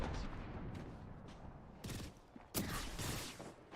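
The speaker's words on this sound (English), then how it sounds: "I am taking fire, friends." Scattered gunfire in the battle royale shooter Apex Legends, fairly quiet and distant-sounding bursts with a couple of sharper, louder shots near the end.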